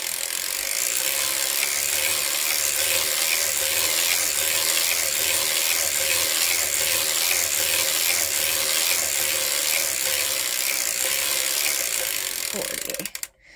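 A circular sock knitting machine is hand-cranked at a steady pace, giving a continuous rhythmic ratcheting clatter of gears and needles for over a dozen seconds before it stops with a brief knock.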